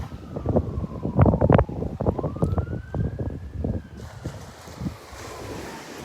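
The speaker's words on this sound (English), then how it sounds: "Oh, nice breeze." On Vanderbilt Beach, wind gusts buffet the microphone in rough bursts, with a faint siren tone drifting in the background.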